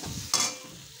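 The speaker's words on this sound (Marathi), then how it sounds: "मी मसाला आणि केचप टाकून घेतलेला आहे, हे सुद्धा चांगलं परतून घ्यायचं।" Pasta with masala and ketchup being stirred and fried in a pan: a soft sizzle with one sharp scrape of a spoon, close and brief.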